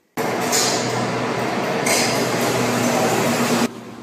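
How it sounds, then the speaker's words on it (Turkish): A train rumbles past with a steady, loud roar of wheels and carriage noise that starts abruptly and cuts off after a few seconds, with no talking. "Tren"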